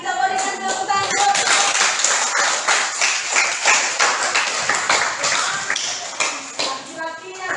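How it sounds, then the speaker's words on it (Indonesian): Students clapping together in a school classroom during a social studies lesson, a dense, steady burst of hand claps lasting several seconds with voices mixed in. "Ya, kita berikan tepuk tangan."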